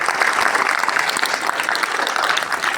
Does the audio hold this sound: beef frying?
no